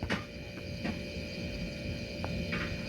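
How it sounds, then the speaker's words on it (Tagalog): A refrigerator's motor compressor runs with a steady low hum and faint tonal whine, recorded up close, with a few light ticks over the continuous drone. "dapat ganito yung tunog ng motor compressor"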